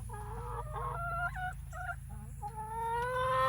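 Hens cluck and murmur beside the nesting boxes in a homestead coop, a steady run of close, overlapping calls over a low background hum.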